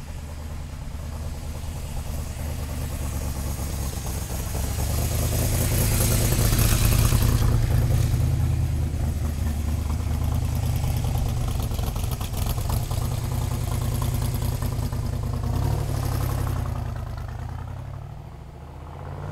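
A 1965 Shelby Cobra Backdraft with a 392 Ford crate motor rumbles loudly up close. The deep idle swells into a sustained rev, then eases back down and stays at a steady throaty level.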